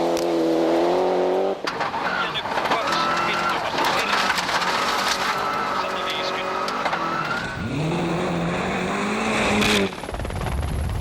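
Tommi Mäkinen's rally car at Rally Finland 1998, its engine loud and close, revving hard and shifting through gears with rising and falling pitch, while a commentator talks over it.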